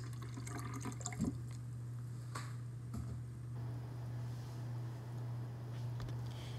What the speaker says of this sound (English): I'm going to add some orange juice.